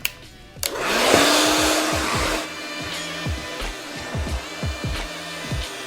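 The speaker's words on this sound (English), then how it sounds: "Now I'm gonna continue blow drying my hair." A hair dryer clicks on and blows steadily close by while curly hair is dried after curl cream. A loud, even whoosh fills the first seconds, then the airflow is broken by a rhythmic series of muffled pulses as the hair is worked, with no speech.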